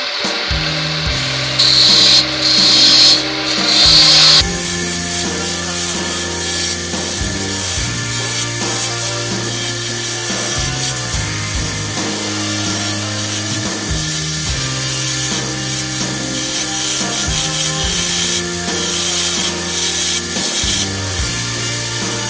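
A spindle gouge shaves a spinning wooden snowman ornament on a lathe, giving a loud continuous scraping hiss that rises and falls in repeated passes, with the lathe humming underneath.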